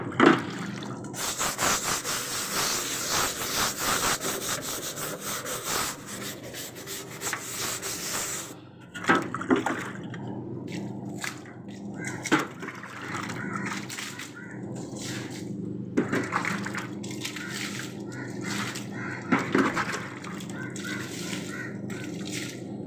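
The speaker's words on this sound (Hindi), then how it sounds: "ये देखिए मैं अभी स्टैंड धो रही हूँ, ठंडा पानी है और ठंडे पानी के साथ मैं धो रही हूँ।" A stand being washed and scrubbed by hand under cold running water in a home setting: a continuous hiss of flowing water for several seconds, then intermittent rubbing and splashing bursts, close up with no talking.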